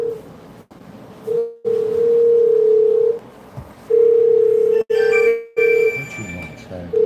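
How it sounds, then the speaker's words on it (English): A telephone ring playing through a speaker, a steady electronic tone sounding in long repeated bursts with brief gaps, loud and close, with faint background noise underneath. "why is my phone ringing on the speaker?"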